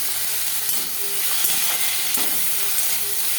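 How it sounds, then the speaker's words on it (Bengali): Onion and garlic frying in oil, with whole chillies added, a loud steady hiss and sizzle close by, dotted with small pops and crackles, no voices. "তো পেঁয়াজ আর রসুনটা ভালো করে ভেজে নিতে হবে"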